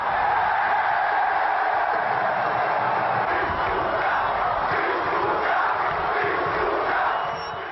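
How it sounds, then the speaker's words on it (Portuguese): A football crowd at a Bahia match in the 2001 Brazilian championship roars and chants in a stadium, a dense, sustained mass of voices heard from a broadcast distance. "a torcida comemora"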